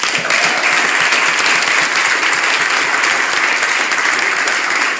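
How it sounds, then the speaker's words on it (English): A room full of people at a campaign kickoff claps for the governor, dense sustained applause at steady loudness from start to finish. "our great governor who deserves another round of applause"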